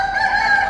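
A fowl calls at an animal auction in Kuwait, one sustained, bright, nasal cry lasting under a second, loud and close with no voices.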